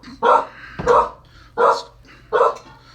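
A dog barks four times in a slow, uneven rhythm, close and loud, with quiet pauses between each bark.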